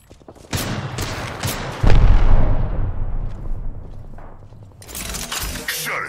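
Gunfire in the Apex Legends battle royale game: loud, close booming shots and bursts with long rumbling decays, followed by a fresh flurry of cracks, with a voice speaking briefly.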